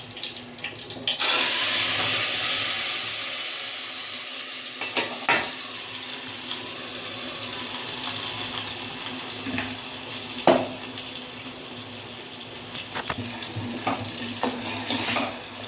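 Masala paste with mustard seeds and curry leaves sizzles in oil in a pan for egg masala at medium heat. A loud burst of frying opens, then a softer steady crackle continues, broken by scattered spoon scrapes and clinks.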